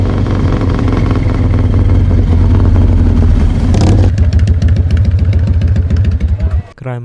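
Several loud motorcycles rumble and rev as a group, engines swelling close and steady before the roar thins into sputtering clatter and cuts off near the end.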